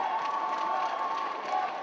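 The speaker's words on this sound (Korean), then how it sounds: "박수밖에 보낼 수 없는 이상열 감독" Crowd applause and cheering after a blocking point at a 2017 Korean university volleyball league match between Inha University and Kyonggi University, a steady, dense roar of clapping and shouting throughout, with no clear speech over it.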